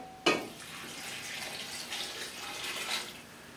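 Water poured into a braising pot for short ribs, a sharp splash at the start followed by a steady, fairly quiet rushing pour that continues alone to the end.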